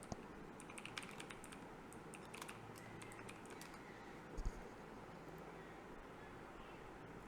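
Someone types steadily on a computer keyboard, entering a search in a browser. The key taps are fast and continuous over a faint hiss, and there is no talk.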